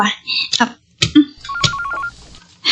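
A telephone rings with a rapid electronic trill, heard once over a man's nearby speech, with voices before and after the ring.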